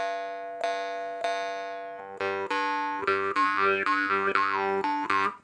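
A twangy, boinging Morchang jaw harp plays a series of repeated notes with strong harmonic buzz, starting sparse and growing busier and more melodic, with no talking.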